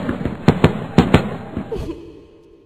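Fireworks sound effect on a live stream: a cluster of sharp, loud bangs and pops in quick succession, fading into a crackling tail.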